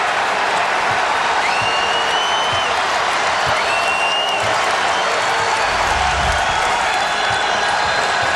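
A basketball arena crowd at a Georgia Tech vs. Louisville ACC men's game roars and applauds in a loud, steady wash of noise, with a faint whistle tone drifting above it.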